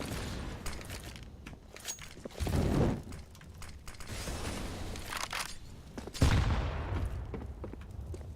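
Rifles fire in Counter-Strike: Global Offensive during a university playoff match, with bursts of gunfire and sharp reports against steady game ambience and footsteps, including a louder volley near the end.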